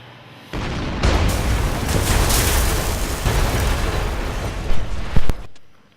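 Loud explosions in a satirical war short: a sustained, dense roaring blast that kicks in suddenly, rumbles for several seconds with a couple of sharper bursts near the end, then cuts off.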